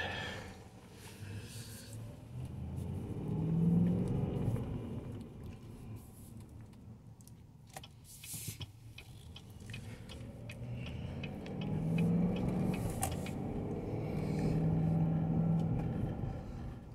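A 2020 Chevy Suburban, repairable salvage, on a test drive, with a low engine hum and road rumble heard from inside, swelling and easing as it accelerates and cruises, with no talking.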